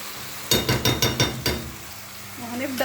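Liver fries in a pan for a liver tagine, with a quick series of about six rhythmic scraping stirs over a faint sizzle. A voice begins briefly at the end.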